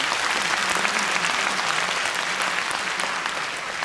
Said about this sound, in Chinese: 真的必须要再次给我们雨虹一个最热烈的掌声